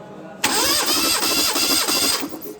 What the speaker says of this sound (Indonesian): mari kita starter